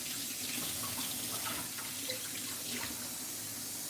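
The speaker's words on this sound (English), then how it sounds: "So my fish, I'm just gonna rinse it off." A kitchen tap runs in a steady, close hiss as a cod fillet is rinsed under it, with faint splashing and no talk.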